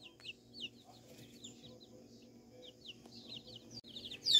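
Silkie and mini bantam chicks chirping, a cluster of high, thin peeps repeating close by over a low steady hum, quiet at first and growing louder at the end.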